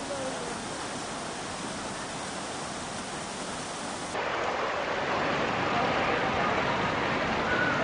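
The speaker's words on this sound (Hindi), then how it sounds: "कैसे पानी का ये तेज बहाव सीधे इस कार को अपने साथ धकेलता हुआ लेकर जा रहा है" Rushing floodwater from heavy rain flowing through a street in Uttarakhand, a dense continuous roar that grows louder midway through, with no clear speech.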